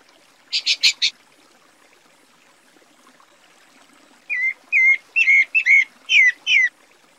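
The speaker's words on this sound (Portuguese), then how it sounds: "O segundo da lista é o canto do sabiá barranco." A pale-breasted thrush (sabiá barranco) sings: a short burst of high notes, then a pause, then a series of about six clear, slurred whistled phrases in an even rhythm, close and distinct against quiet background.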